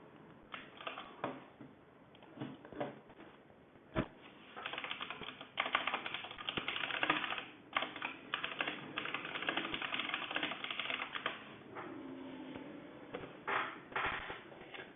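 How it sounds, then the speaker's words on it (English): Loud, fast computer keyboard typing, likened to a clattery 1901 typewriter, with dense bursts of clicking keystrokes and brief pauses running throughout, close and alone without talk. "Bro has 1901 typewriter."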